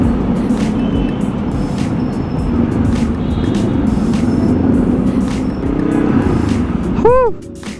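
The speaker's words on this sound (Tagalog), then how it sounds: "Grabe. Ang traffic." Heavy road traffic of cars and trucks rumbles steadily, a dense continuous roar with passing engines, and a loud horn-like blast near the end.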